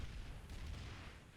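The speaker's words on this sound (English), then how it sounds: "I see random explosions over the Ziggurat." Explosions in the video game PlanetSide 2 during a tournament match, a quiet continuous rumble of distant booms and blasts with no talk.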